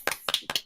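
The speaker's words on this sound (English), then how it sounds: "Round of applause." A few people clap in a short burst of applause to welcome a guest on a podcast, four or five sharp, close claps in quick succession.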